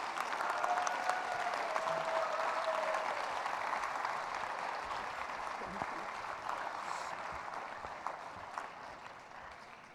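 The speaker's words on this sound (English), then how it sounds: "Please give them a warm round of applause as they take their seats." Audience at a closing conference plenary applauding the panelists, sustained even clapping that fills the room and slowly thins toward the end.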